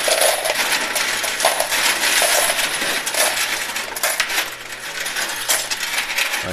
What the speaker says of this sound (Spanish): Vamos a sacar las monedas.